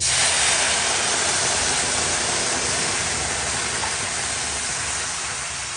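Water poured onto broken wheat fried in ghee sets off a loud, broadband hiss that rushes steadily throughout and eases slightly toward the end.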